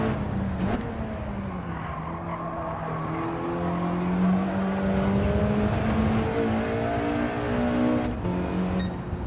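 A four-wheel drive car in Gran Turismo 7 runs a cornering licence test, its engine droning and shifting pitch continuously, with tire squeal and skidding through the corners, loud and close.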